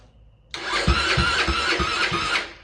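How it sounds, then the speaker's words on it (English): An engine starts abruptly and settles into a loud, steady broadband hiss over low rhythmic thumps from the motor, close by. "Now I hear hissing coming out the intake"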